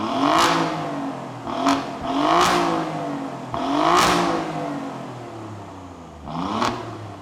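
The 2017 Alfa Romeo Giulia Quadrifoglio is revved through its quad exhaust in five sharp, close bursts. Each blip climbs quickly and then falls away, leaving short idle gaps in between, with no talk over it.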